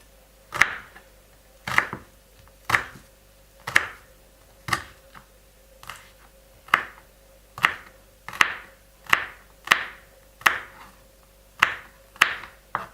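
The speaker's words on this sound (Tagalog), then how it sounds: "Hiwa po tayo ng bawang." Garlic sliced with a knife on a cutting board, about fifteen crisp close chops at an uneven, unhurried pace over near silence, with no talk.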